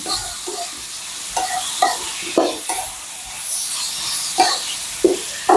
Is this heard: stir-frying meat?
yes